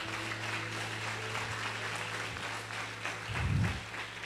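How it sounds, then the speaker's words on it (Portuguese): Church congregation applauding during a sermon, a fairly soft, continuous patter of clapping over a low hum, with a brief louder low-pitched burst near the end. "Aplaude o teu Deus, aplaude."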